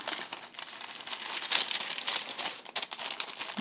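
Plastic bags crinkle and rustle continuously as they are handled and folded at close range during a papercraft session, with sharp crackling bursts throughout and no talk.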